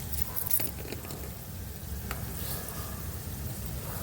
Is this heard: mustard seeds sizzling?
yes